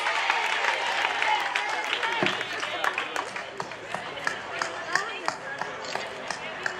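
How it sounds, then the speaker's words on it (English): An audience at a prison inmate graduation ceremony in Banjul applauds, with dense clapping at first that thins into scattered individual claps toward the end, loud and close, with no clear talking over it. "A big round of applause for Katie West."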